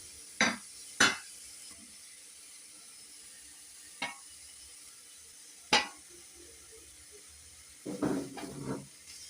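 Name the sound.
stirring shallots, ginger, garlic and tamarind roasting in pan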